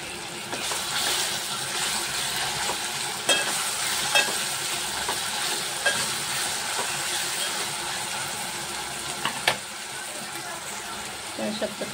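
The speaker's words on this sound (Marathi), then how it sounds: "थोडा वेळ आपण परतून घेऊया व्यवस्थित." Tomato masala being sautéed in a pan for egg biryani, a continuous close sizzle with intermittent clacks and scrapes of a spoon against the pan, and a voice talking over it at times.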